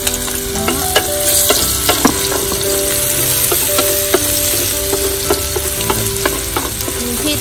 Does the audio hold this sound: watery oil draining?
no